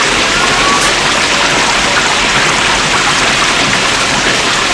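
Heavy rain pours down in a dense, unbroken hiss that stays loud and close from start to finish, with no voices or other sounds.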